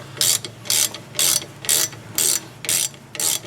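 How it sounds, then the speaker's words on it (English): A ratchet clicks in seven even bursts, tightening the rear brake caliper pins on a 2002 Chevrolet Silverado 2500HD, each stroke a crisp close-up run of pawl clicks. "I'm going to tighten the pins down."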